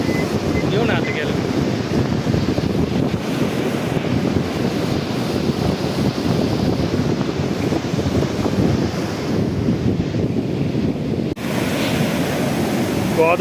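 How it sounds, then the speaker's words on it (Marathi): Swollen Godavari river at Malegaon Thadi near Kopargaon, Nashik district, rushing after heavy rain: a loud, continuous roar of fast floodwater with steady wind buffeting the microphone throughout. "गोदावरी नदीला प्रचंड वेग बघू शकतात पाण्याचे."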